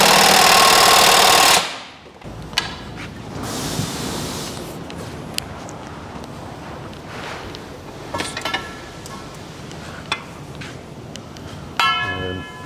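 A pneumatic impact gun rattles in a loud opening burst while tightening wheel nuts in a workshop, then falls to quieter shop noise with scattered metallic clinks and a short second burst near the end.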